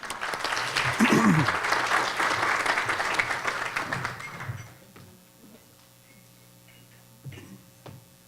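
An audience at a nonprofit showcase applauds warmly for about four seconds, then the clapping fades out into a quiet room with a few shuffling sounds and brief voices.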